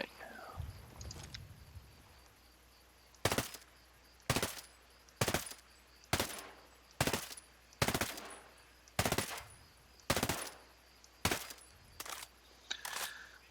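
A long run of evenly spaced assault rifle shots in Ghost Recon Breakpoint, each loud crack followed by a short decay, after a brief quiet stretch with faint sounds at the start.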